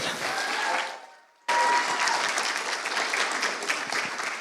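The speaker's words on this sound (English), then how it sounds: "Let's give one more round of applause for our judges tonight" Round of applause for the judges at a JUD Talks 2022 evening, an initial burst of crowd clapping that fades to a brief near-silence, then erupts again loud and sustained until the end.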